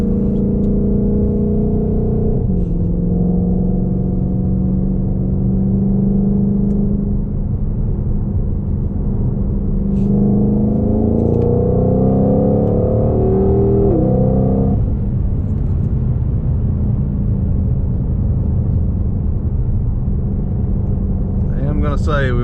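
A 2020 Ford Mustang Shelby GT500 engine drones steadily from inside the cabin, deep and loud, with a few rising revs and gear changes along the drive.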